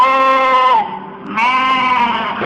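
Goats bleat loudly and close by in one long, wavering call that dips briefly before swelling again, with no other sounds around it.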